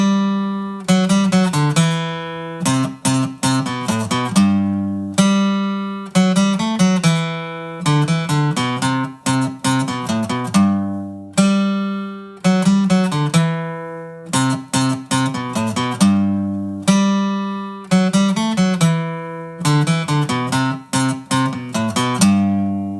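An electric guitar plays The Office theme melody, with clean plucked notes in bouncy repeated phrases and clear pauses between them, close and loud with no talking.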